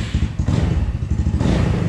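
A Venom X18R 200cc Chinese-made motorcycle being ridden, its engine giving a steady, loud low rumble with rhythmic thumping and rattling vibration throughout, no talk.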